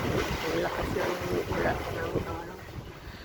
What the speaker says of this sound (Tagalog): Ang lakas ng hangin pa rin.